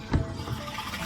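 Water gushes under strong pressure from an open tank feed on a third floor, a loud steady rushing flow that begins with a brief surge and then holds even, close by with no voices.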